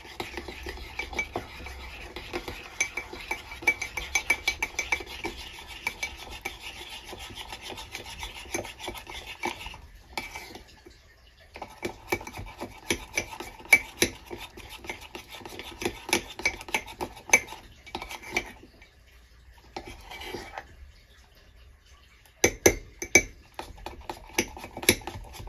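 A spoon mixing cocoa powder in a dish: rhythmic, close scraping and rubbing strokes that come in bursts with brief pauses, quiet and without talk.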